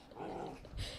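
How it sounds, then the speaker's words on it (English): A dog gives a brief, low rumbling growl up close, rising and then easing off within a second, heard alone with no talk. "His growling is so like mean"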